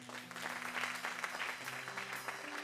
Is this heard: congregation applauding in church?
yes